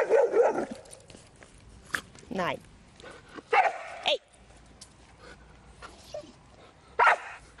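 A reactive dog lunges at another dog, giving several sharp barks, yips and whimpers in uneven bursts, close by, while a person scolds it in German between the outbursts.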